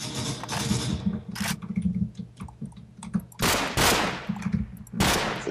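Rapid bursts of video game gunfire from a Minecraft gun fight, loud sharp volleys and single shots scattered across the clip, with a low steady hum beneath.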